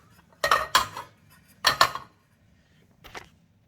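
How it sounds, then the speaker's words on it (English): A metal cover plate on a Panasonic KDK National ceiling fan is wiggled loose, giving three short clanking metallic bursts. The first two are close and loud, and the last is fainter. "now we can just take off the plate, wiggle it around, take it off"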